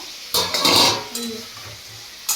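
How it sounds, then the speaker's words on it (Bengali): Onion and tomato frying together in a home kitchen pan for a soybean curry, heard as a few close bursts of sizzling and stirring clatter with short pauses between. "এখানে আমি পেঁয়াজ আর টমেটো ভাজে দিয়ে দিয়েছি"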